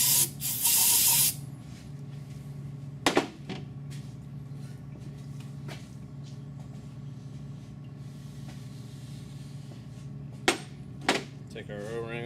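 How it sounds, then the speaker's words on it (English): Brake cleaner sprayed from an aerosol can on Volvo B230 water pump parts, one loud hissing burst about a second long, followed by a quieter stretch with a few sharp knocks and clanks. "Good old brake clean."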